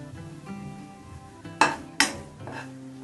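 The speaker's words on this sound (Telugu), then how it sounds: "ఈ విధంగా నెయ్యి యాడ్ చేసుకుంటూ మన కొబ్బరిని ఫ్రై చేసుకుందాం" Grated coconut frying in ghee in a pan gives a soft sizzle under two sharp metallic clinks of a spoon stirring against the pan, quiet and close, with no talking.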